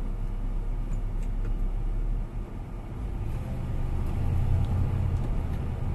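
A 1972 Chevrolet C-10 Cheyenne pickup drives along, its engine producing a steady, loud low rumble with road noise throughout and a slight swell toward the end.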